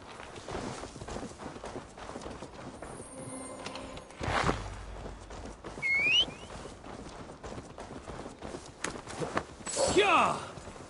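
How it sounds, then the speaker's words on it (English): Horse hooves clip-clop at a walking pace in Assassin's Creed Valhalla, a steady moderate patter under game music and effects, with voices talking over parts of it. "Now to deliver Magni his horse."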